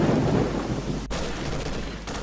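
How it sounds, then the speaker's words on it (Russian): Gunfire in the video game Stalker with the Old Story mod, set around a factory where mercenaries are being cleared out. One sharp distant crack rises above a steady rumbling ambience, and a fainter shot follows soon after. "Здесь вовсю идет стрельба."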